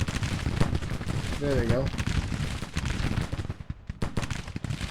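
Massed musket fire from about 2,300 soldiers volleying at an enemy brigade in the Grand Tactician Civil War strategy game, a dense crackle of overlapping shots that continues throughout while someone speaks briefly.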